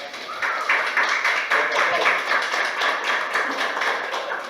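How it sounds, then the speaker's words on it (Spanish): An audience at a lecture on Dominican drama gives loud, sustained applause for the director of a university publishing house, dense, close clapping throughout. "Fuertes aplausos para él"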